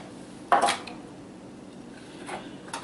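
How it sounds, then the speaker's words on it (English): A zucchini loaf is turned out of its metal loaf pan, giving one sharp knock and clatter of the pan followed by a softer tap a moment later. "I'm going to take this one out of the loaf pan and invert"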